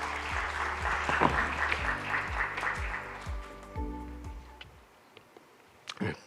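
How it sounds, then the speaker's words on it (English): An audience at a legal seminar on aviation gives a round of applause for an incoming speaker. The clapping is dense and steady at first, then thins out to a few scattered claps and fades. "So may I suggest welcome him with some applause."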